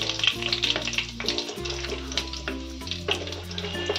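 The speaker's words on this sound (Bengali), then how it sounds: "এখানে আমি নিয়ে নেব 4টে মতন শুকনো লঙ্কা, এটাকে একটু হালকা করে আমাকে নেড়ে নিতে হবে।" Dried red chillies stirred and fried in a pan over a medium gas flame, a close crackling sizzle with repeated scraping stirs and brief clinks, no talking.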